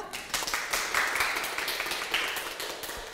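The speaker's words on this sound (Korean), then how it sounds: "박수 보내주시죠" An audience at a talk on the psychology of money applauds to welcome a guest, a fairly soft, continuous rattle of clapping from a room full of people, with no voices over it.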